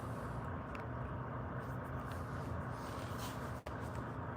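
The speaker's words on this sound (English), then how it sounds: "I ain't turn my truck off. Let me turn my truck off." A truck engine idles steadily nearby, a continuous low rumble with a brief dip near the end.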